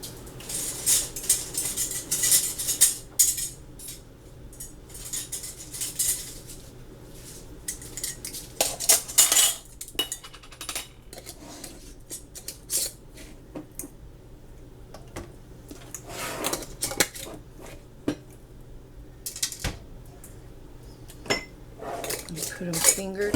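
Metal canning rings being screwed onto glass jars of hot dog chili sauce, with scattered metallic clinks, scrapes and ticks spread across a long stretch, some louder clusters, and occasional faint voice.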